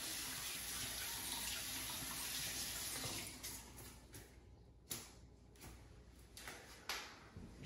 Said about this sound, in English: I usually take a little hand soap with some warm water and I just try to get as much wax off my fingertips as I can